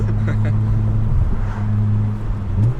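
Steady low engine drone from an 8th-gen Honda Civic Si with a 3-inch full race catback exhaust while driving, heard as a constant hum, moderately loud, with no sharp revs.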